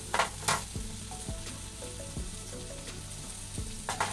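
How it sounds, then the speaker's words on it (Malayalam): Chopped onions and tomatoes sizzling in a pan as the base for prawn roast, with a steady close fry punctuated by a few sharp utensil clanks and scraping stirs, and no voices. "സവാളയായിട്ട് നല്ലോണം ഇളക്കി കൊടുക്കണം."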